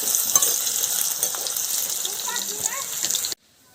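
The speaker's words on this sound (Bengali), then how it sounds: "আমি আলু আর কাঁঠালটা ভেজে নেব আলুটা আগে একটু ভেজে তারপরে কাঁঠালটা দিয়ে দেব" Potatoes fry in hot oil in a pan, giving a steady bright sizzle with some soft stirring, loud and close for a few seconds before cutting off abruptly into silence.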